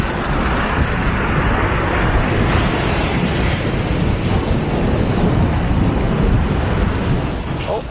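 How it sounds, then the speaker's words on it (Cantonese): Ocean surf at Half Moon Bay beach, a steady broadband roar of breaking waves. It holds loud and continuous throughout, with no talk over it. "大家聽唔聽到海哭嘅聲音啊？"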